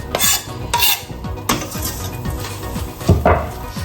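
Chopped onion, pepper and garlic sauté in a hot pan, crackling under repeated close scraping and stirring strokes with occasional metallic knocks of the spoon against the pan.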